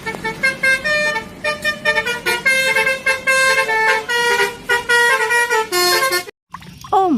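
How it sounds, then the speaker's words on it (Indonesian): A toy bus's telolet horn plays a loud, bright, rapid melody of repeated horn notes that fills most of the clip before cutting off briefly near the end. "Wow, bus telolet."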